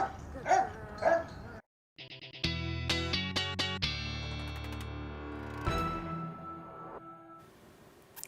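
A couple of high puppy yips and whimpers at the start, then a music passage with sustained tones takes over.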